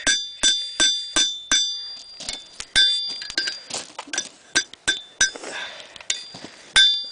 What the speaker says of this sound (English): we'll start hammering it around the horn